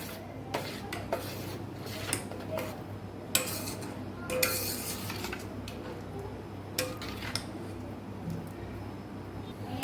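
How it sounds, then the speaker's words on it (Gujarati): Sugar melting into syrup in a pan on a gas stove at medium flame, stirred continuously with a spoon, giving soft scraping and light metallic clinks up close, no speech. "એક તારી ચાસણી થાય ત્યાં સુધી આપણાને ગેસ ઉપર હલાવતા રહીશું મીડિયમ ગેસ રાખેલો છે"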